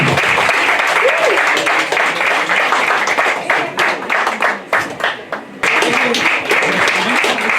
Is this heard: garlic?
no